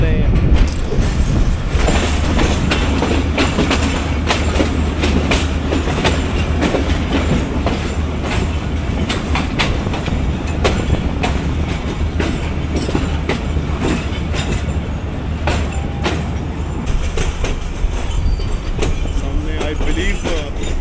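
ZCU30 locomotive 6308 hauling a train from Khanewal toward Lahore, its engine chugging loudly and steadily for the whole stretch, with rhythmic clickety-clack of wagon wheels on rail and a brief faint voice in the mix.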